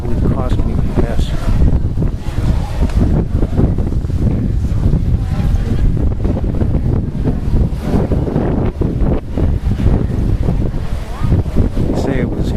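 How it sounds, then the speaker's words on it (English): Strong, gusting wind roars through New York City streets during a heavy blizzard, buffeting the microphone in a continuous loud rumble while someone talks over it. "A lot of the winds are still heavy right now."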